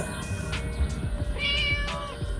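A cat in the Scary Teacher video game gives a few short, faint meows over quiet game background ambience, with no voices.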